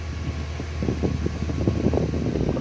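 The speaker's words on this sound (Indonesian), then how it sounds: "AC-nya nyala tapi kurang dingin." A car's air conditioning fan blows steadily in the cabin, a constant whooshing hum with faint clicks and rustles over it and no talk.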